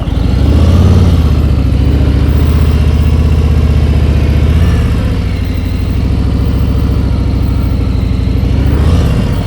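Motorcycle engine pulling away from a standstill as the clutch eases into the friction zone: a loud, close, steady low engine drone with slight rises in revs, heard alone without talk.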